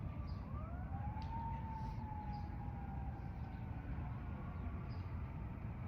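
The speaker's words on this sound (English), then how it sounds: "even though the sirens are going" A distant siren wails, its pitch sliding slowly up and down over a steady low rumble, faint but continuous throughout.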